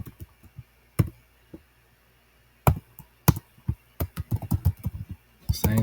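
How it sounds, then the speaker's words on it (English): Typing on a computer keyboard while writing Arduino code for a four-relay shield, heard as irregular clusters of close, crisp key clicks with short pauses between bursts and no talking. "Now, while I'm typing this, let's move that out of the way."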